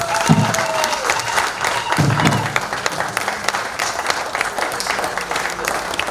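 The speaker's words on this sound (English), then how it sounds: "Can you have another hearty round of applause, please?" Hearty applause from an audience at a formal ceremony, dense clapping that holds steady throughout with a few raised voices mixed in.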